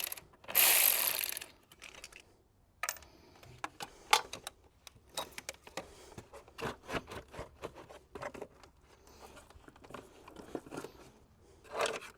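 A hand ratchet works a 10mm bolt loose on a Mini Cooper S engine bay. Crisp clicking bursts come in short, uneven runs with pauses between them, close up and with no talking.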